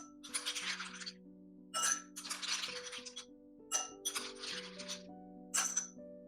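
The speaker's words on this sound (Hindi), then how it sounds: "बर्फ डाल देंगे।" Ice cubes drop into a glass in several separate clinking clatters, each a bright rattle that rings briefly and fades, with soft background music underneath.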